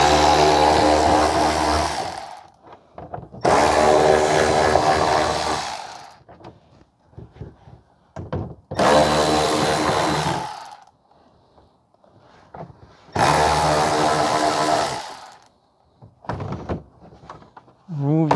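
A power tool removing four 10mm bolts on a 2019 Toyota C-HR with the 2.0 3ZR-FAE engine, heard as four loud, close, buzzing whirs of two to three seconds each, separated by quieter clinks and handling noises.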